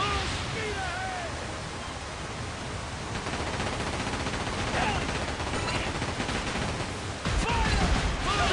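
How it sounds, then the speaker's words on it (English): Pirate ship cannons fire in the video game Like a Dragon: Pirate Yakuza in Hawaii, with booming blasts over a constant roar of sea and battle noise and faint shouted voices. "Cannons armed and ready!"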